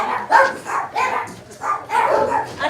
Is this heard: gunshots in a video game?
no